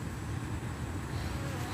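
Honey bees buzz around a trap-out box set on a log outdoors, a soft, steady, low hum of many wings close by with no speech.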